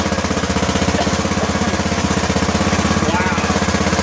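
A lawn tractor with a 17-horsepower Intech engine, whose starter had been badly seized, runs in a fast, regular, loud chugging pulse that stays steady and close throughout.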